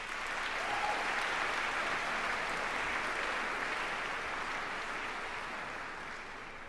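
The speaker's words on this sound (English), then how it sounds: "Let's give them a round of applause." A crowd at a high school graduation applauds steadily, an even roar of clapping at moderate distance that fades slightly toward the end.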